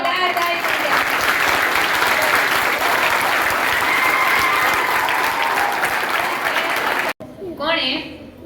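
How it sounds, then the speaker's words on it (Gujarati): An audience at a Veer Bal Diwas gathering bursts into loud, sustained clapping for about seven seconds, a steady dense roar that cuts off abruptly, followed by a short stretch of voices. "જોરદાર તાળીઓ"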